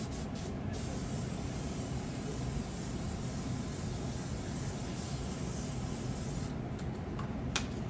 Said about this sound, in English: So this vent is an airbrush.